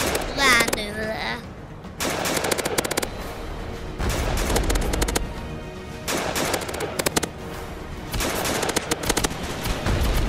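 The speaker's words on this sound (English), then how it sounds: "It's a machine gun." Machine gun fire in the War Simulator video game comes in rapid, loud bursts repeated several times, with a person talking between and over the shooting.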